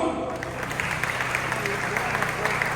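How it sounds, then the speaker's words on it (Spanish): Audience applause fills a church conference hall, a steady dense patter of clapping that holds at even loudness throughout. "Vamos a darle un aplauso."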